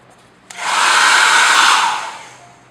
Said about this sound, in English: To speed up the drying process, a good old hair dryer.